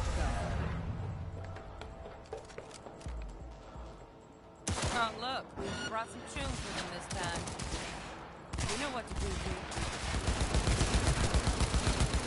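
Gunfire in the video game Cyberpunk 2077, bursts of rapid automatic shots and single cracks broken by pauses, loud and close, with a voice talking over parts of it.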